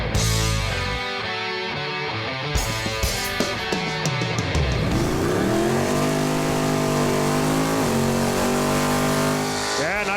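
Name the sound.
drag racing car doing a burnout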